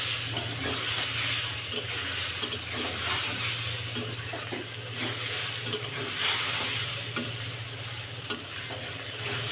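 Egg curry masala sautéing in a pan, a steady close sizzle broken by frequent scraping stirs and faint clinks, with no voices.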